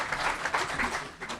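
An audience at a healthcare conference gives a short round of applause, a soft, uneven patter of many hands clapping at moderate distance.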